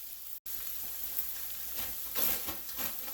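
Cooked rice tipped into a hot pan of sizzling pork fried rice, with a continuous close frying hiss and a brief swell of crackle as it lands.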